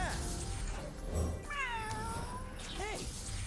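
A cat meows twice in the Legends of Runeterra card game, a drawn-out falling meow followed by a shorter rising one, clear and close over a soft game background, with no talk.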